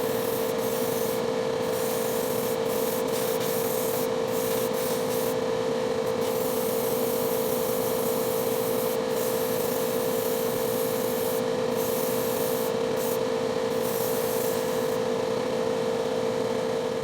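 Continuous rhythmic rubbing of wet sanding with 2000 grit paper on the painted body of a 1969 Plymouth Barracuda, a close, steady hiss with a constant hum beneath and brief pauses between strokes.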